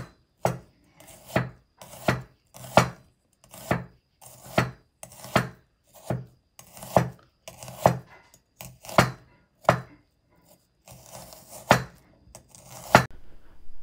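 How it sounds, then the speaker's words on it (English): A knife finely slices a small onion on a board in steady, rhythmic chops, about one per second, close and clear with no talking. "So the onions have to be very finely sliced."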